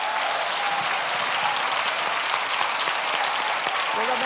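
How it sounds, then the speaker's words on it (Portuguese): A church congregation applauds the sound team, a steady wash of many clapping hands from start to finish with a few faint cheers mixed in. "Vamos aplaudir a sonoplastia da igreja."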